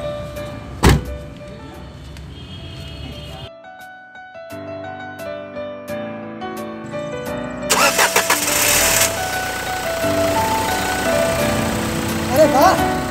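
A car just repaired by a mechanic starts up with a sharp crank, and its engine settles into a running hum, with a short jingle-like musical passage before it and a burst of louder noise later.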